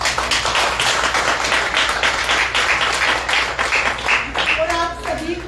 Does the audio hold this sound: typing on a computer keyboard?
no